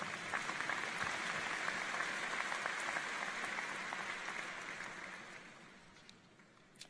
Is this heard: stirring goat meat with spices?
no